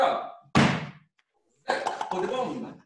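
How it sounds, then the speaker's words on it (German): A small-to-medium air vortex cannon fires a smoke ring with one sudden, close, heavy thump that decays quickly. People talk just before it and again after a short silence. "das ist meine kleine, mittelgrosse Rauchringkanone, Wirbelkanone oder Schallkanone"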